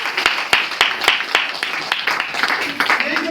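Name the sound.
audience clapping at seminar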